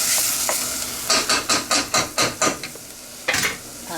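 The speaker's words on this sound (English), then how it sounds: "I love me onions cooking." Onions fry in a pan for a pepperoni lasagna, giving a steady, close sizzle. A run of rhythmic scraping stir strokes sits on top, then a brief final stir near the end.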